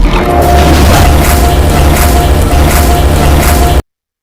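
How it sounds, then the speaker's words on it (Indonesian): A car explodes in a Korean drama scene, a loud sustained booming blast with crashing debris and rumble that holds for nearly four seconds before cutting off. "Sebelum mobil itu meledak, Sedoyun mengendong Oh Hwan-so untuk keluar dari mobil"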